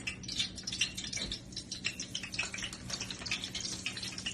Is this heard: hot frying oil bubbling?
yes